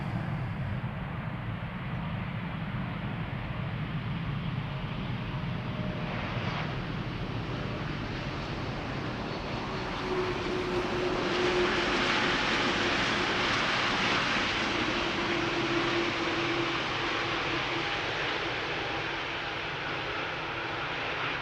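A TUI airliner on arrival at Schiphol, back from Cancun, sounds as a steady broad engine roar that swells a little midway, with a faint tonal whine riding on top and no voices.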